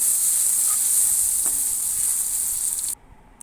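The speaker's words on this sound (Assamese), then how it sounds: "এতিয়া এইখিনি মই আদা নহৰু দি ধুনীয়াকৈ ভাজি লৈছোঁ।" Ginger and garlic frying in a hot pan, giving a constant close sizzling hiss with faint stirring clicks, heard alone until it cuts out briefly near the end.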